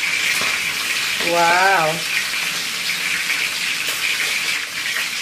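Daun cengkir leaves being washed under a running tap, a steady loud gush of water throughout, with a short exclamation early on.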